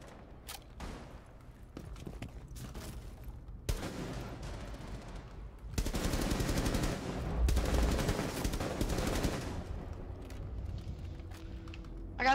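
Shotgun blasts and other gunfire in a Rainbow Six Siege–style ranked match, a few sharp shots early, then a louder dense burst of firing mid-clip before it eases back to a busy game background.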